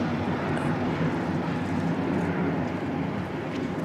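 An Air New Zealand aircraft on a maintenance test flight at Christchurch Airport in wet conditions gives a steady, broad jet roar, loud and continuous, with no talk.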